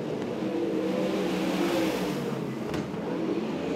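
Sprint cars racing into a turn at Archerfield Speedway, a dense continuous engine roar held at full throttle, loud and fairly close, with no voices over it.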